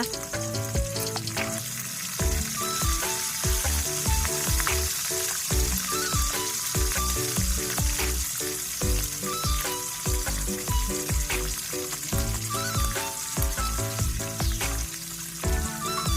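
Sun-dried pork belly marinated in fish sauce deep-frying in oil, producing a loud, continuous bubbling sizzle with crackling pops and intermittent stirring scrapes, close and unbroken for the whole stretch with no talk.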